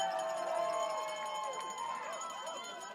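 Loud, steady crowd noise fills a women's university soccer championship semifinal between Cape Breton and UBC, with voices and shouts carrying through the stadium the whole time.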